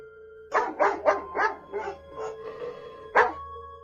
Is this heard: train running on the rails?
no